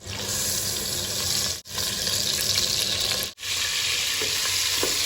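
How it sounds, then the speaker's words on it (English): Kobe sizzling as it fries in a little oil in a pan, a loud steady crackle with two brief gaps where the sound cuts out, no talk. "I'm going to pour a little bit of oil. So this amount of oil is enough. And we are going to fry our Kobe."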